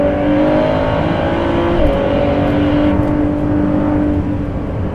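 A 2018 Ford GT's V6 engine drones loud and close with a rough, mechanical, cammy tone, pitch shifting slightly mid-way as revs change, continuous throughout with no voices.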